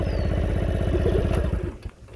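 A motorcycle engine chugs in a steady, rapid putter at close range, then sputters and dies out abruptly as it stalls, leaving near silence.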